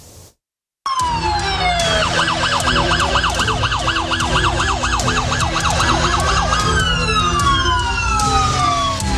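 An ambulance in the West Bank sounds its siren loudly and close by, with a rapid wailing yelp cycling steadily for several seconds, backed by traffic noise and occasional higher sweeping tones.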